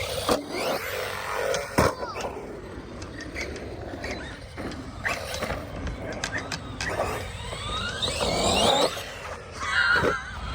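An Arrma Kraton 4s v2.5 RC car drives and jumps outdoors, its electric motor whining and surging under rattling, clattering impacts, with occasional voices mixed in over ten steady seconds.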